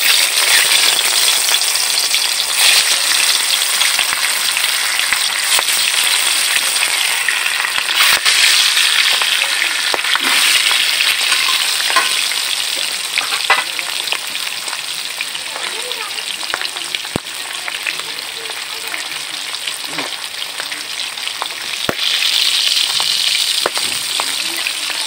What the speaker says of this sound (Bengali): এটা বাকি মাছগুলো আমি ভেজে নেবো।